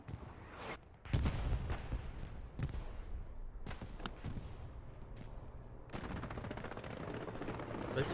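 Distant artillery and scattered gunfire rumble through a World War II battle in the Hurtgen forest of a competitive military shooter, with heavy booming impacts and sharp cracks repeating over several seconds amid a constant battlefield din.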